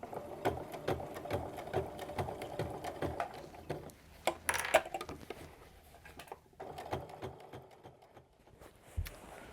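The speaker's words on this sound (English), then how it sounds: "I've got my binding stitched down all the way around" A sewing machine runs close by as it stitches binding around the rim of a foam-structured fabric basket, giving fast rhythmic needle chatter with short pauses and restarts.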